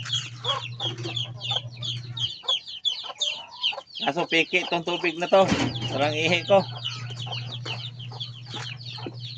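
Chickens clucking during feeding on a small farm where ducks are also fed, bursts of clucking and a brief crowing-like call under someone talking, with a steady low hum in places.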